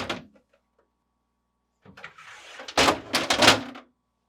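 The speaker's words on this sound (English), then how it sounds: "Start by opening the doors." Doors of a GE refrigerator being pulled open, a soft seal release followed by a louder burst of rattling and clunking as the fresh food doors swing, alone with no talk.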